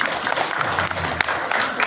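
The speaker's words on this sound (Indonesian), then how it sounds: "Tepuk tangan" An audience at an Indonesian community gathering and Halal Bihalal claps in a dense, continuous burst of applause with sharp individual claps, close and fairly loud.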